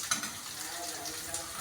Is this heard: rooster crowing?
no